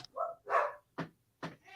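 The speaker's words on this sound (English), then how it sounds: "someone's dog's going crazy" Someone's dog going crazy, letting out a quick string of four or five short barks and yips in uneven bursts, close by and fairly quiet, with no voices over them.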